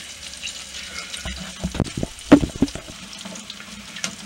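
Bread deep frying in oil over an alcohol stove on a boat, a soft steady bubbling and crackle with a few louder splashy pops near the middle, close and without talk.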